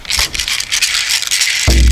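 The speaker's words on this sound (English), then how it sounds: "if I take the drum and the rattle," A rattle shakes in a dense, scraping rustle up close, followed at the end by a heavy drum hit booming in.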